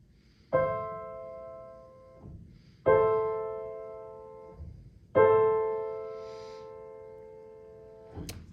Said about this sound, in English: just a simple minor triad that sounds like this